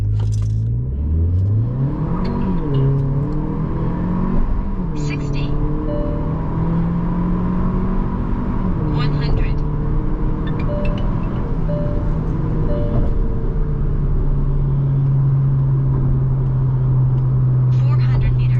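Tuned cars on top speed test runs accelerate hard, engine notes climbing in pitch through several gear shifts, loud and close over constant road and wind roar.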